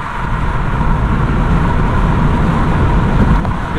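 A Mazda MX-5 NC roadster engine pulls steadily in second gear on a countryside drive, a continuous loud low drone with road and wind noise heard from inside the cabin.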